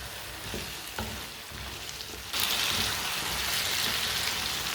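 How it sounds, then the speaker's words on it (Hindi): Chopped potatoes frying in a pan for aloo matar gajar sabzi, a steady hiss and sizzle that grows louder and brighter partway through as they are stirred, with a few soft clinks and no talk. "2 मिनट के लिए भून लेना आलू डाल के, और लांच पे भूनना"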